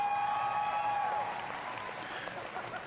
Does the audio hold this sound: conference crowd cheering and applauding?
yes